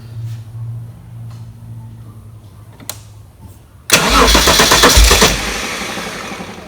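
A Jaguar XJS, a 3.6-litre manual upgraded to 4.0 litres on a Haltech ECU with ignition timing too far advanced, cranks and catches into a loud, rough engine burst that then fades, following a quiet stretch with a few clicks.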